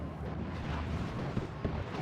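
Battle explosions in the strategy game Dawn of War 2, an Exterminatus mode match with a Gorkanaut, rumbling continuous blasts and booms layered into a dense roar with a few sharper bursts near the end.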